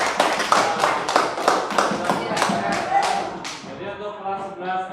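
Classroom of students clapping together in a quick, rhythmic burst of about eight loud claps, then trailing off into scattered softer hand sounds and faint murmuring.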